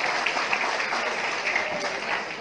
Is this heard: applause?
yes